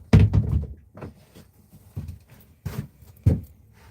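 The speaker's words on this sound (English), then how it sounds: "I open the door" A door swung open during a woodturner's lathe-craft live stream, heard as a few dull knocks and thumps spaced apart, moderately close, with no speech over them.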